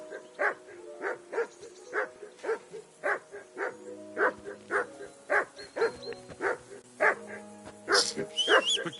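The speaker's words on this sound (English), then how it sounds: "I assume you can hear that damn dog of yours barking." A dog barks repeatedly at a steady rhythm, about two barks a second, moderately close, with a faint tonal hum beneath, in the video game Kingdom Come: Deliverance 2.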